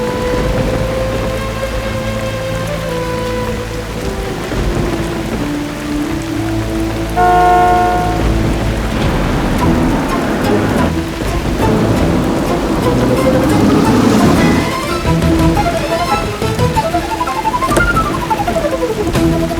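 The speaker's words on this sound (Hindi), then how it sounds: "शिवांगी, तुम बारिश में क्यों खड़ी हो?" Steady rain falls and patters continuously, mixed under melodic background music and a low rumble that builds and fades throughout.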